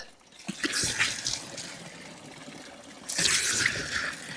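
Water trickles and splashes steadily from a village stream spout in Kashmir, close by, with two louder gushing bursts near the start and end.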